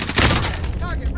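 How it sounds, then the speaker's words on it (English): A gunshot blast in a battle royale video game, a loud dense burst with a rough noisy tail lasting about a second, close and filling the whole clip. "I got sniped from behind."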